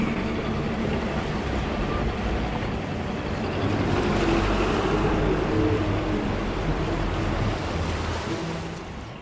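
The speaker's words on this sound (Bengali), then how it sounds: "এই যে নৌকাটি বিভিন্ন স্টেশনে থামে, কিছু যাত্রী নেমে যায়, আবার অন্যরা উঠে যায়।" Passenger boat moving along a Venice waterway in the early morning, a loud steady rush of engine and churning water that holds throughout and eases slightly at the end.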